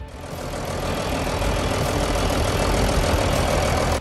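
An International Harvester 826 tractor engine runs steadily with a loud, close, dense rumble that holds an even level for about four seconds before cutting off, with no voices.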